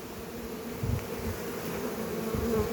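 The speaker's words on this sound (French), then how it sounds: "On voit les toutes petites abeilles qui font ce qu'elles peuvent." Honeybees hum steadily at a hive under robbing attack, a close, continuous low drone with slight swells and no voices.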